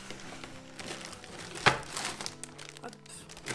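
Sticker packaging pulled from a cardboard box of book stickers, giving a short, close crinkle of plastic or paper with one sharp rustle midway, quiet handling noise around it.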